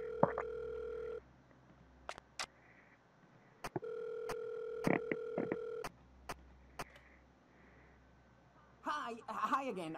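Incoming phone call in the horror video game Five Nights at Warios 3: a repeating electronic ringtone plays in bursts between short clicks and silences, then a voice starts speaking at the end.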